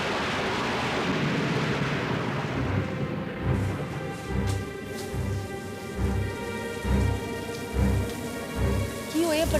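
Heavy unseasonal rain pours down steadily in the month of Chaitra while thunder rumbles repeatedly in deep, rolling bursts, loud and close, with no voices over it.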